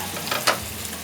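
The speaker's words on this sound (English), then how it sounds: "you know your pan is hot because you can hear the sizzle" Food frying in a hot cast iron pan over wood coals in a restaurant kitchen, a short burst of soft sizzling with a brighter hiss in the middle, close and alone.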